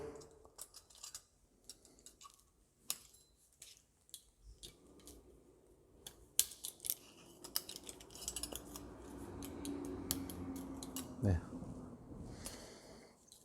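Spring-loaded legs on a camping stove are pressed and folded, giving faint scattered metallic clicks and snaps close by, with quiet handling noise and a voice speaking throughout.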